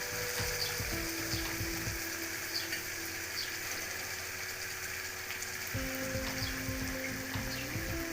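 Jackfruit koftas frying in a spiced masala curry, a continuous close sizzle and bubbling, with faint tonal hums from a background appliance coming and going, no voices.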